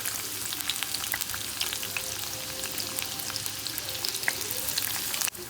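Chopped onion hisses loudly in hot oil in a kadhai, an even, dense sizzle with scattered crackles that runs the whole time and ends with a sharp clack, with no talking.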